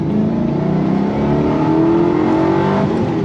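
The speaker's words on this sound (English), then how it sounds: "Pulls all the way up the red line." A 2005 Ford GT supercar engine with a manual gearbox revs hard toward redline, a loud, steady rising roar close by with no talking over it.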